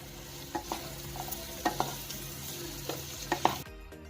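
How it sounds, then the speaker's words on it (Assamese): Ground black sesame seeds fry in a pan while being stirred for a sesame and yellow pea chutney, a soft continuous sizzle punctuated by repeated scraping strokes of the spoon, close and quiet, with no speech. "এইখিনি 2 মিনিটমান ভাজি ল'ম।"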